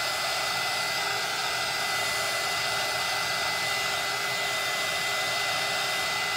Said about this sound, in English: So I'm gonna hit it real quick with some heat.